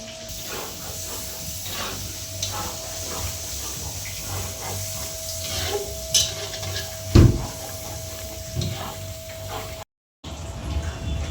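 Chopped onion and green chili fry in a pan with a continuous sizzling hiss, broken by a few clanks of utensil against pan and one brief dropout near the end.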